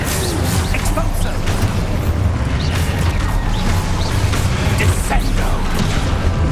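Spell blasts and explosive impacts in the Hogwarts Legacy video game, dense booming bursts layered with clattering crashes over a steady loud bed of game noise and music, with chanted incantations mixed in.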